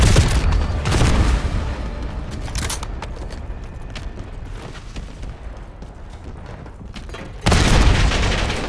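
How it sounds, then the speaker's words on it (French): A sticky bomb goes off on the Subsonic map in Black Ops 6: a heavy boom opens, rumbling combat fills the middle, and a second loud blast lands near the end. "J'active une bombe collante."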